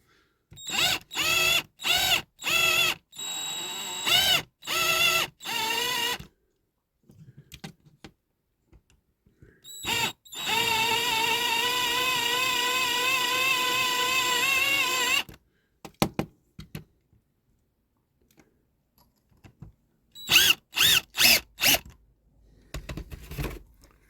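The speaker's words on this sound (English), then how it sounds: "let's drill the bottom of this out, shall we?" Repeated short bursts of a small power drill spinning up and stopping, then one long steady whirring run, followed by a few more quick bursts, drilling out the base rivet of a Dinky Toys Ford Cortina Mk1 diecast model.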